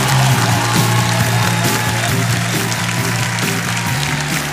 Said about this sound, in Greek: θέλω το δυνατό σας χειροκρότημα για να ξεκινήσουμε το διαγωνιστικό μέρος